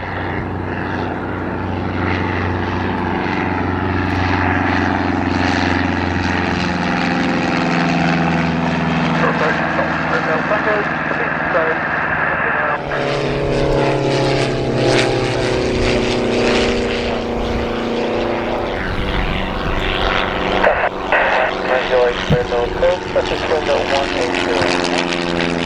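A propeller aircraft takes off at Gloucester Airport, its engine a loud, close, sustained drone that rises in pitch and power as it accelerates, with faint radio chatter underneath.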